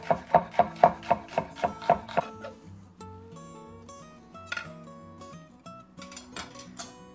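Red onion chopped on a board for a chopped Italian sub, a quick run of about eight sharp knife strikes, then quieter handling and light scraping with some kitchen clatter.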